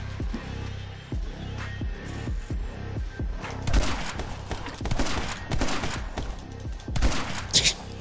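Repeated shotgun blasts from the video game My Friend Pedro, loud booming shots at a quick, uneven rhythm, with bursts of other gunfire and clattering effects in between.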